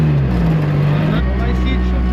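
A rally car pulls away with someone driving, a close steady engine drone inside the cabin with a pitch shift partway through, accompanied by a person talking over the noise.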